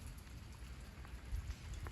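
Rain falls steadily in a winter garden, a soft, faint hiss with scattered light drops pattering nearby.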